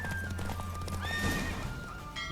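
A horse in The Witcher 3 video game gallops with rapid clip-clop hoofbeats and lets out a loud neigh midway, the game sounds steady and close.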